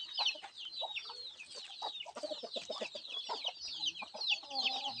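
Palawan native chickens, a flock with many chicks, cluck and peep busily and continuously at close range, with high chirps layered over lower clucks and no talking.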